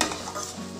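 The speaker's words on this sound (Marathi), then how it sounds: "साखर टाकली आहे। आता आपण चांगलं हलवून घेऊ।" Brief stir of carrot halwa in a pan of milk-simmered grated carrots just after sugar is added, a soft wet scraping swish with a light sizzle, close and continuous.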